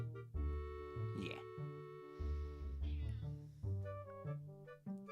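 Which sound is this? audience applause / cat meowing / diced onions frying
cat meowing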